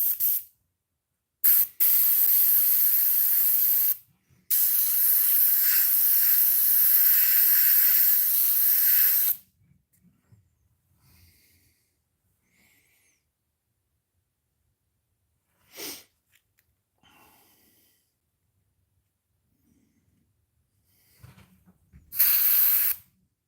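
Airbrush spraying paint onto a fishing lure, fed by a small pancake compressor: several sharp, loud hissing bursts of a few seconds each, separated by near silence, with softer short puffs and faint handling noise between.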